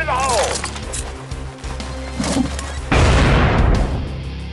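In the video game Mercs of Boom, a grenade explosion lands as a loud, broad burst near the end of the clip, following an earlier blast and mixed with game noise and voices.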